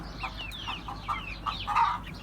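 Growing Turken, Ameraucana and village chicks give a short, fairly faint string of clucks and chirps against a steady low background.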